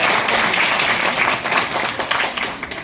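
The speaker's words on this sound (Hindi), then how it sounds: "मैं चाहता हूं एक बार जोरदार उनके लिए तालियां हो जाए।" Crowd applause at a religious procession gathering honoring Sant Shiromani Namdev Maharaj in Matrukundiya, a dense, steady wash of many hands clapping close by, with faint voices mixed in and the clapping thinning slightly toward the end.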